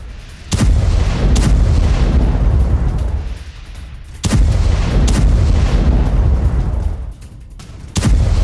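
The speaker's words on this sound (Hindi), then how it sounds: "रिहायशी इलाके में ये मिसाइल गिरी है तो तेल अवीव में मिसाइल से हुआ है हमला" Iranian missile strike explosions in a residential area of Tel Aviv: three loud, sharp blasts at roughly four-second intervals, each followed by a sustained heavy rumble and roar, with no talking.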